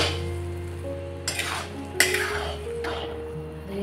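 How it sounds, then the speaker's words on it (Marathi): Boondi fries in hot oil with a little ghee, a continuous close sizzle joined by a few brief bursts of stirring and scraping in the pan, over a faint steady hum. "तुम्ही जर तेलामध्ये तुम्ही बुंदी तळत असाल"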